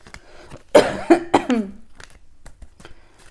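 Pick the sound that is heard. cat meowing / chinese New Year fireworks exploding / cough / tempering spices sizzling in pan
cough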